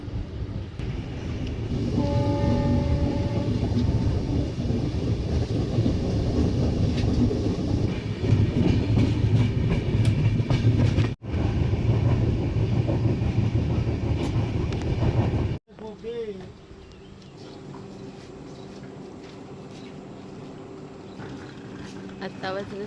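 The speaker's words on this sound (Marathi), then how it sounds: "आत्ता वाजलेत 7 आणि ट्रेन सुटली रत्नागिरी स्टेशनवरून।" Konkan Kanya Express passenger train running on rails from Ratnagiri, a loud steady rumble of wheels and carriages with rhythmic clatter, briefly cut off twice before settling into a quieter hum.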